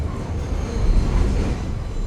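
A New York City subway train rolls along the tracks, giving a steady, dense low rumble with a rattling clatter that swells slightly midway. It sounds close and loud, as if heard from inside a car, with no voices.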